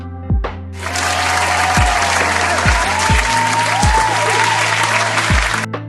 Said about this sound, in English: you will get an applause sound